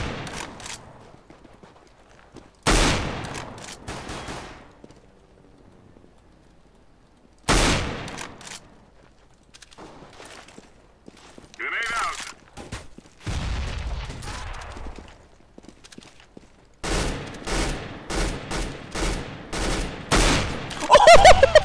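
Bursts of rapid gunfire in Counter-Strike: Global Offensive come in separated volleys, with quiet gaps between and a final stretch of repeated sharp shots.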